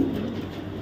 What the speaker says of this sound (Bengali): এটা একটা রেস করা কবুতর